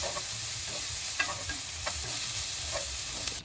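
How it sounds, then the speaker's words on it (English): Beef and diced onion sauté in a pan with a steady, close sizzle. A few soft stirring scrapes sound through the frying, and no one talks. "You want to saute your beef until it's brown and crispy on the outside"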